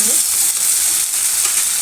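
Chopped tomato and slit green chilies hit a pan of frying potatoes and onions, raising a loud, continuous hiss and sizzle close by that stays fairly even throughout the short stretch.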